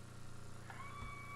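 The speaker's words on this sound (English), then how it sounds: "I don't know if you can hear, but that was the cat." A cat meows once, briefly and fairly near, over the steady low drone of a Silver Airways airliner flight deck during pre-flight setup.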